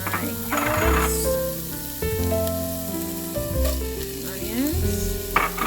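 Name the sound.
garlic and carrots frying in olive oil in heavy pot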